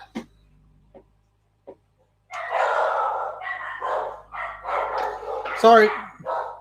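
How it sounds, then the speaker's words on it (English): Several dogs bark excitedly indoors, a burst of close, overlapping barks and yips after a quiet start with a few small knocks, carrying on for several seconds. A person speaks briefly. "Apparently, the dogs didn't like that."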